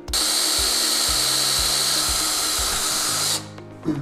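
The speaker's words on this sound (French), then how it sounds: "on va venir percer un premier trou. On peut utiliser une mèche d'environ 1/8 de pouce." A power drill with a 1/8 inch bit bores a pilot hole in an aluminium snowmobile rail while ice scratchers are being installed. The motor whines loudly and steadily with faint rhythmic grinding, then winds down and stops near the end.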